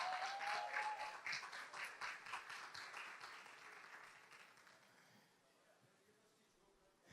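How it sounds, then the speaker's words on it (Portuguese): Audience applause fills a conference hall, loud and dense at first, then thinning and fading over about seven seconds. "quero convidar para cá, então, com uma salva de palmas, Céu Fernandes, já subindo para cá."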